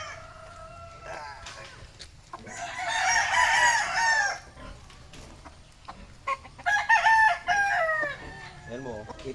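A White Kelso gamefowl rooster crows loudly and nearby in two long, wavering calls, with scattered clucks and yard noise in between and a brief farm-animal call near the end.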